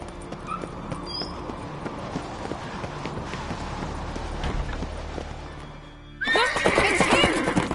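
A video game horse whinnies in a loud, sharp burst near the end, rising out of a steady ambient background of wind and movement, with faint hoofbeats around it.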